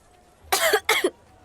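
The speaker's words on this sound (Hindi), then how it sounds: "खांसी?" Two quick, harsh coughs in a row, close and loud, from a person in a Hindi movie scene, set against near silence.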